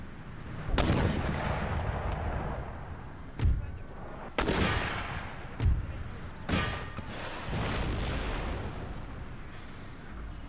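Mortars firing in the Empire: Total War battle game, a series of heavy booming launches spaced a few seconds apart over a continuous rumbling battlefield bed, fairly loud and without talk.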